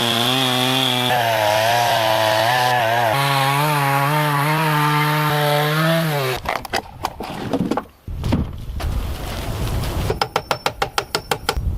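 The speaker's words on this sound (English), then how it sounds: "uses a chainsaw to trim the wood to the correct size." A chainsaw trims logs to size for the walls of a hand-built log cabin in a forest; a steady tonal whine fills the first part, then rougher, choppy cutting bursts follow with uneven loudness.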